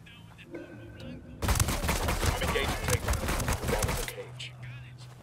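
Video game gunfire breaks out as a dense, rapid burst of shots lasting a few seconds, loud and close, between quieter ambient stretches.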